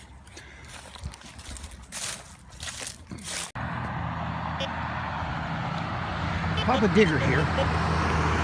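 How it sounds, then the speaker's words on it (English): A steady roar of passing traffic swells and fades in the background, with a voice and some rustling and scraping near the microphone. "Sorry about the noise of the cars."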